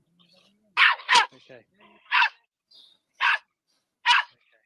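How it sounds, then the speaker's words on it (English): A loose dog in Spain gives several sharp, close barks, two in quick succession and then three more spaced about a second apart, with quiet whimpering sounds in between and a brief spoken word. "I wonder whose dog it is"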